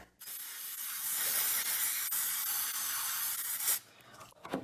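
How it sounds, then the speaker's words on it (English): A steady aerosol spray of FlexiSeal sealant hisses for several seconds at close range onto a bowl, then cuts off, followed by a few faint handling sounds. "I'm just going to go ahead and spray some FlexiSeal on that"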